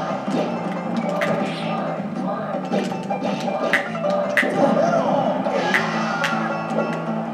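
A virtual crowd cheers inside a Super Smash Bros match, a steady roar of voices with sharp game hits and effects cutting through while a person talks over it.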